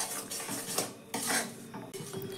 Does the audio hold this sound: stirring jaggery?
yes